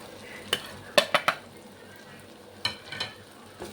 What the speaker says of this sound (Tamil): இந்த டைமில் நான் மசாலா வந்து ஆட் பண்ணிக்கிறேன்